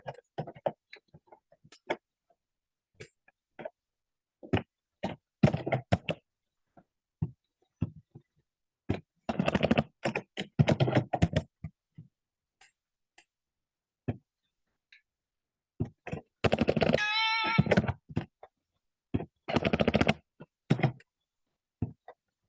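Someone types data entries into a computer keyboard for SPSS statistics work, producing sparse clicks and dense rapid bursts of keystrokes with pauses between them, close and fairly loud, with no talking.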